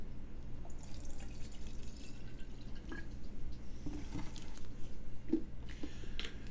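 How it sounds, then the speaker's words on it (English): Apple juice poured into a bottle for making cyser, a steady liquid trickle and patter at close range with no talking, low background hum throughout. "Just pour it right into this bottle."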